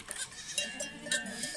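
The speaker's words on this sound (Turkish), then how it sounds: "Diğer keçiler de geliyorlar zaten." Goats bleating as mother goats enter the pen to meet their kids: several overlapping bleats, fairly faint and from a short distance, with faint cowbell-like clinks.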